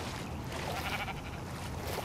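A Minecraft: Story Mode sheep bleats over a noisy, dense game soundscape, a short, muffled call that is partly buried in the background.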